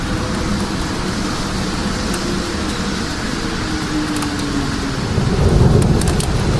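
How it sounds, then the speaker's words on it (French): Steady heavy rain pours in a summer thunderstorm near Clermont-Ferrand, with a low rolling rumble of thunder building toward the end, loud and continuous with no voices. "Deuxième orage en 2 jours, ça c'est cool."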